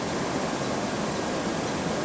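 Water released from a dam onto the Allagash River rushes steadily as a dense, even roar of flowing water, with no other sounds.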